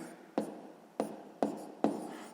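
Four sharp, evenly spaced taps of a pen or chalk jotting numbers during a sixth-grade math exercise, close and fairly quiet, with no voices.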